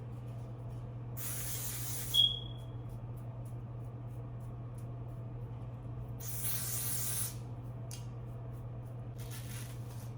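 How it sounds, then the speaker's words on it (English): Ebin hair spray misted in two bursts onto a blonde 613 wig during an install, soft airy hiss over a steady low hum, with a faint short squeak between the sprays. "For the top layer, I'll be spraying my Ebin."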